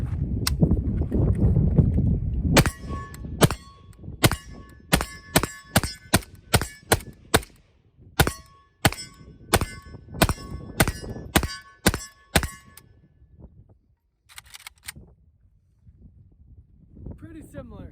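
An AK rifle firing 7.62x39 rounds with bare muzzle threads and no brake goes off in about twenty sharp, loud, evenly spaced shots, then pauses and fires a final pair, with low rumble between.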